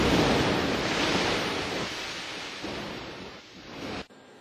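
Water rushes steadily around an Italian submarine as it submerges, a loud, broad wash that slowly fades before cutting off abruptly near the end.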